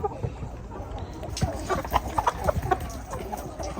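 Native country chickens at a farm selling birds, with scattered clucks and short calls over a busy background of rustling and movement, fairly close.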